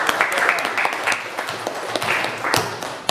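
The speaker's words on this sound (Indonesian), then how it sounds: "Terima kasih, kasih aplaus." An audience claps at a presentation, producing a bright, steady patter of many hands that rises and falls, with a voice speaking over part of it.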